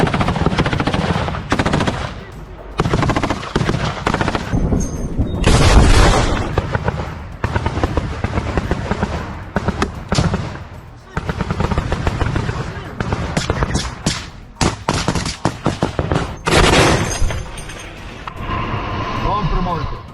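Rapid bursts of machine-gun fire and scattered gunshots in combat between soldiers, dense and loud through most of the stretch, with louder volleys mixed in and voices shouting and talking over the fighting.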